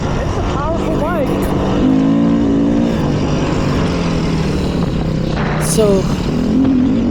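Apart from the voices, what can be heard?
2020 Beta 500 RR-S dirt bike riding through desert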